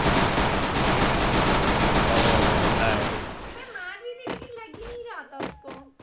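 Rapid gunfire from a Garena Free Fire Clash Squad match crackles in a dense, loud stream for about three seconds, then cuts off as people start talking.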